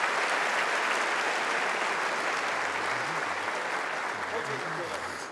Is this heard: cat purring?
no